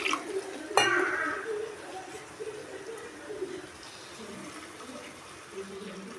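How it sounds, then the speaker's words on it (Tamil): Water is poured into a pot of garlic kuzhambu in a home kitchen, starting with a clank of the vessel and then a soft splashing fill that fades to quiet stirring. "தண்ணி ஆட் பண்ணிக்கலாம் ஃப்ரெண்ட்ஸ்"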